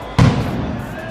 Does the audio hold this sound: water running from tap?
no